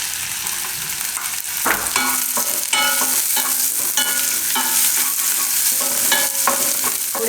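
Garlic, ginger and onion fry in a pan for veg lasagna, a loud continuous sizzle broken by repeated scraping strokes of a spatula stirring at an irregular pace, with no talking.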